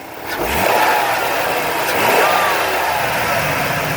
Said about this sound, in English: Engine sounds great, it's very responsive, it idles smoothly.